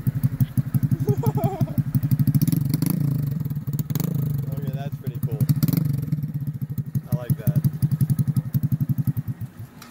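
Small 2019 Honda Grom motorcycle with a Zoom full race exhaust, its engine firing up and idling with a loud, close, rapid popping pulse, a few clatters and blips of throttle, and people talking over it.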